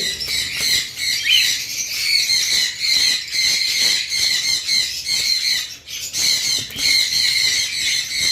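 Cockatiels kept for sale chatter and squawk in continuous, overlapping high calls, fairly close and steady, with a brief lull near the end before the calling resumes.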